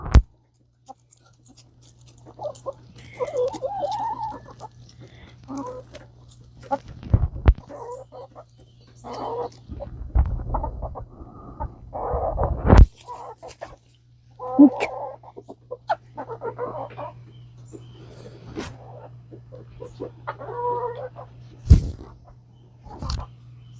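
Chickens clucking inside a chicken coop, soft murmuring clucks and occasional louder squawks scattered throughout, close, with rustling and a low steady hum beneath.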